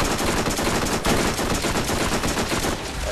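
Rapid SMG fire in Borderlands, a dense stream of loud automatic shots rattling steadily for about three seconds amid game effects.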